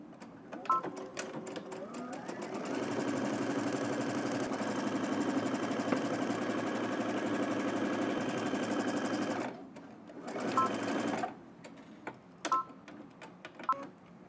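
Sewing machine stitching fabric in a long, steady mechanical whir that runs for several seconds, then stops, followed by a few short bursts of stitching and clicks.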